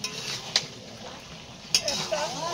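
A metal lid is lifted off a cooking pot, giving two bright clinks about a second apart over a soft, steady sizzle and kitchen background.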